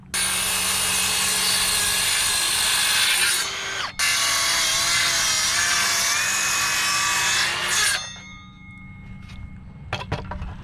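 A saw cuts a chunk out of a 2x4 top plate with a loud, high whine that holds for about eight seconds, drops out briefly midway, then stops, followed by a few light knocks.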